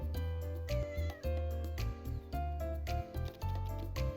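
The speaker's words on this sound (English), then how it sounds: "the cat is at my door" A white cat meows in the video game Little Witch in the Woods, a rapid run of short, bright, tonal mews over a steady low synthetic hum, loud and close.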